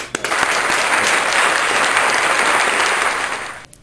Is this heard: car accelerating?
no